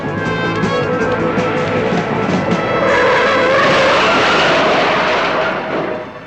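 Cars in a film skid off the road, a loud continuous tire screech and engine roar swelling in the middle and fading at the end.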